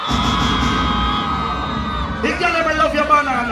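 Crowd at a live dancehall stage show screaming and whooping, loud and close, rising into bursts of shouts over a sustained tone, with someone talking through it.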